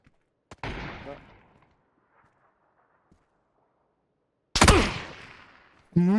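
Gunfire in a battle-royale video game: two heavy, booming shots with long rolling echoes, one early and one near the end, plus a sharp crack at the close, separated by near silence.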